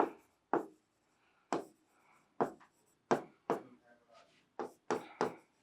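Chalk or a marker strikes a classroom board during a math lesson, about a dozen crisp, separate strokes in an uneven rhythm, close and fairly faint, with a soft voice now and then.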